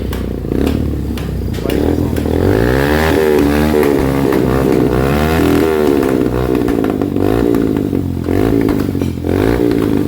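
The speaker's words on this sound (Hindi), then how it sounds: "एग्जॉस्ट की साउंड" Motorcycle fitted with an aftermarket fire exhaust, revved repeatedly up and down with rising and falling engine pitch, loud and close, with some crackle and clatter and no talking.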